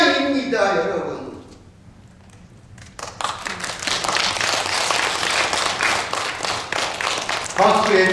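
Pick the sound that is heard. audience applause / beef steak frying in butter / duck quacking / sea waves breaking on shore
audience applause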